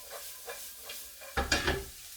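Aubergines and courgettes sweating in a pan, a soft low hiss with a brief louder burst of sizzling and stirring near the end, close by and otherwise quiet.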